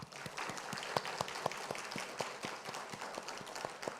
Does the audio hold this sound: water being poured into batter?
no